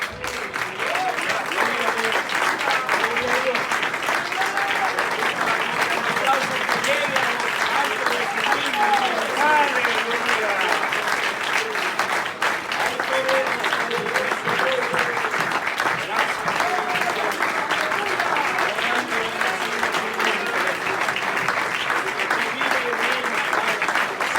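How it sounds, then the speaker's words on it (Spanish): Congregation in a church applauding steadily and loudly for about twenty-four seconds, dense continuous clapping with voices shouting and praising over it throughout. "le vamos a dar un aplauso fuerte a nuestro Dios"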